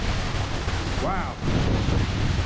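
Strong wind buffeting the microphone beside a waterfall in Los Reyes, Michoacán, a loud continuous rushing roar with a brief voiced exclamation partly heard through it.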